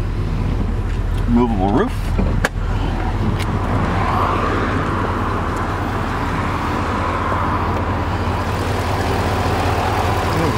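A 2007 Chevrolet Corvette with Corsa exhaust, long tube headers and an SLP intake idles with a deep, steady rumble, close and continuous, while a person speaks briefly over it.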